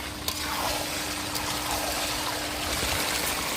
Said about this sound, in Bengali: মাংস কষানো হয়ে গেছে পরিমাণ মতো জল দিয়ে দেবো